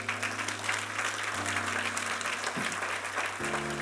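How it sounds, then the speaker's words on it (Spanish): A church congregation claps steadily under sustained organ or keyboard chords, the clapping moderately loud and continuous, with a shifting musical drone beneath. "Y le debes dar un aplauso al Señor por eso."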